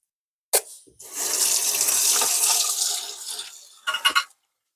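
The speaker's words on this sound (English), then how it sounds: "Quickly wash my palette knife." Tap water runs hard onto a palette knife in a kitchen sink for about three seconds, framed by short clunks and splashes before and after the stream.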